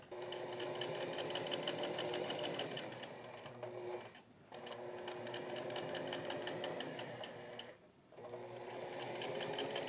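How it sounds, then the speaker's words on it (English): A sewing machine stitching a lip onto the lining of a raincoat hood, a fast steady mechanical whirr close up, running in three stretches broken by two short pauses. "Stitch this lip onto the hoodie."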